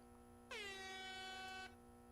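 A single loud air horn blast from a video game, sustained for just over a second against quiet background hum.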